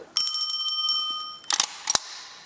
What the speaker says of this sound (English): Between each rooms we had that effect of a doorbell and a latch that would open